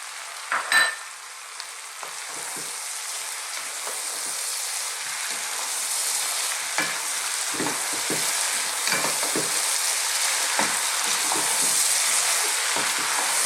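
Mushrooms cooking in a vegetable curry in a pan with a lid on, giving a steady close sizzle and hiss with occasional soft spatters and pops and a brief clink near the start.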